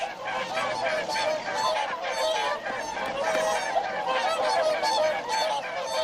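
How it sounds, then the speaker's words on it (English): Whooper swans calling in flight over a lagoon refuge after migrating from the Arctic, a chorus of overlapping trumpeting honks, loud and continuous. "Hooper swans breed in the Arctic. They've flown all the way across Russia."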